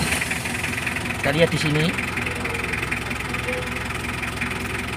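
A Mitsubishi L300 engine idles with a steady mid-pitched rumble and faint knocking, heard close up in a workshop while someone speaks briefly over it.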